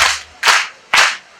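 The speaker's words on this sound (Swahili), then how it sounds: "naomba tumshukuru Mungu kwa kupiga makofi mara 3" A church congregation claps three times in unison, each sharp collective clap ringing out loud and close with short even pauses between, no talk over it.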